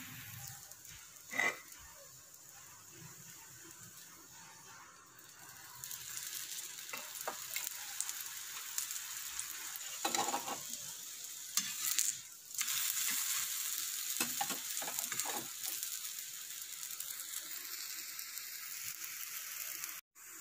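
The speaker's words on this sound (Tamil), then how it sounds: "இப்போ நம்ம பரோட்டாவை போட போகிறோம். கொஞ்சம் போல் ஆயில் விட்டுக்கோங்க." Wheat paratha frying in a little oil on a hot griddle, a steady close sizzle that swells and stays loud for most of the stretch, with a few scraping and turning sounds and no voices.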